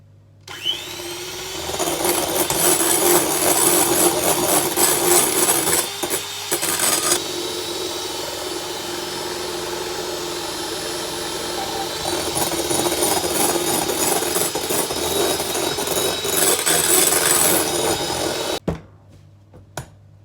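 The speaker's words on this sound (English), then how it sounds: "Now a stand mixer would be easier for this, but I decided to do it with a hand whisk" A hand whisk beats meringue with honey in a bowl, making a fast, continuous scraping and clattering whir close by, with a short pause partway through before it stops.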